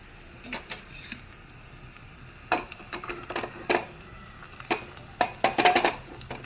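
Garlic frying gently in oil in a pan over low heat is stirred, giving irregular utensil scrapes and clinks against the metal over a faint, steady sizzle, with a denser burst of stirring near the end.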